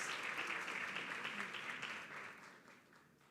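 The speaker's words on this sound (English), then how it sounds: "Big round of applause for her." Applause from an audience at a sustainability report presentation, faint and steady, gradually fading away.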